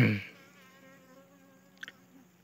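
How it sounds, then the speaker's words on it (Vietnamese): Honeybees swarm and buzz at a wooden hive box, drones among them, making a steady faint droning hum after a brief loud thump at the start, with a couple of small knocks later. "Ong chia đàn thì nó hay có ong đực lắm."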